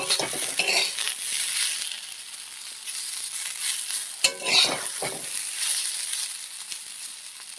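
Thinly cut potatoes frying in oil, a steady close sizzle with scraping stirs and a sharp clink of a utensil against the pan partway through, no voices.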